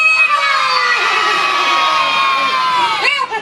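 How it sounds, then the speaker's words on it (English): Children in an audience at a Punch puppet show in Otley cheer and shout together, a loud sustained chorus of high voices that fades out at the end. "A nice big cheer to please old Punch."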